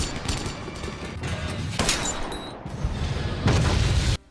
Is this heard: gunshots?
yes